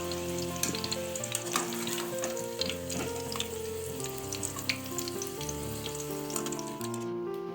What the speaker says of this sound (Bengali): আলুগুলো ভালো করে ভাজা হয়ে গেলে এরপর একটা ঝাঁঝি হাতের সাহায্যে আলুগুলোকে তুলে নেবে